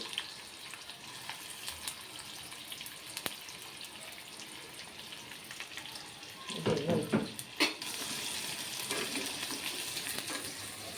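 Sliced onions sizzle in hot oil in a pan for mutton drumstick curry, a soft steady frying hiss with a louder burst of crackling and stirring midway, heard close.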